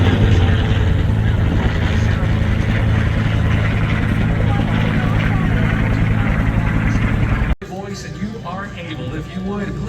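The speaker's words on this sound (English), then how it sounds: "we've got a helicopter flying over or landing behind us right now" A helicopter flies over or lands nearby at an airshow, a loud continuous rotor and engine rumble that dominates the outdoor scene before cutting sharply to a quieter background.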